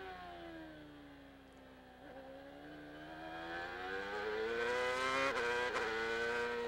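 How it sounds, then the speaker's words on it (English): A 2002 CART race car at Laguna Seca screams out of the corkscrew, engine pitch climbing, dropping sharply on a quick upshift to third, then snapping into fourth and rising again, loud and steadily building. "Shifting up to third and then banging into fourth immediately."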